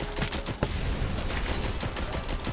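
Dense, rapid gunfire in the video game RoboCop: Rogue City, a loud continuous volley of close shots with a few sharper individual cracks, no voice over it.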